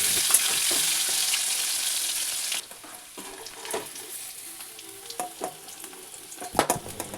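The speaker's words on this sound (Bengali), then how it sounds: "ততক্ষণ পর্যন্ত নাড়াচাড়া করতে হবে যতক্ষণ না আলুর দুটো পিঠ একদম লালচে হয়ে ভাজা হয়" Potato pieces frying in oil for potato curry, a loud steady sizzle at first, then quieter bubbling crackle broken by scraping clacks of a spatula stirring and turning them in the pan, no voices.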